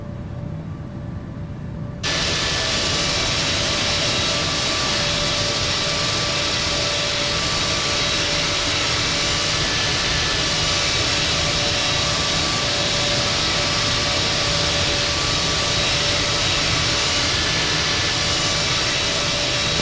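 An Airbus A330-300 airliner takes off from Newark on runway 22 right: after a quiet moment, a loud, steady broadband engine roar rises abruptly and holds unbroken to the end.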